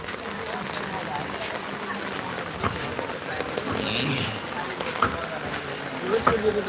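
Rain falls steadily in Phulbari, Kurigram, a dense even patter with occasional louder drops.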